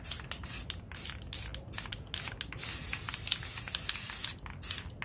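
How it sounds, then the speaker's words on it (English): Black spray paint hisses from an aerosol can in short bursts and one longer sustained spray along the edges of a guitar body, close and fairly loud, with brief pauses between passes and no talking. "we'll just take the black paint, spray paint, and just kind of go over the edges"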